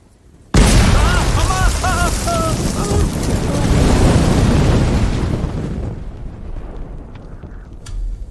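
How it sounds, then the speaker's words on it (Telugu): A bomb explodes in a Telugu comedy fantasy film with a sudden loud boom. A long, heavy rumble follows and slowly fades, with brief high cries over the blast. "ఇప్పుడు ఇక్కడ బాంబు పేలింది కదా"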